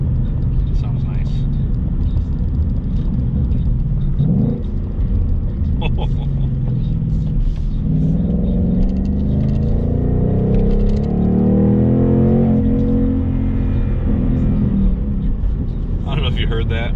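A 2020 Ford Mustang Bullitt's exhaust rumbles under driving, rising in pitch as the engine revs on a downshift, with talking from inside the car throughout.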